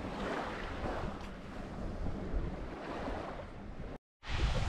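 Waves wash steadily onto a small sandy cove beach on the Marmara coast near Çanakkale, a continuous loud surf rush mixed with wind buffeting the microphone, briefly cutting out before returning.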